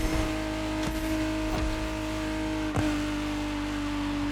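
Lotus Emira sports car engine in the racing game The Crew Motorfest, a steady droning hum held at constant loudness with a few brief surges, close and alone without talk.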